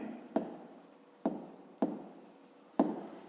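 A pen writes out a fifth-grade maths exercise on paper, four sharp taps with short scratching strokes between them, quiet and close.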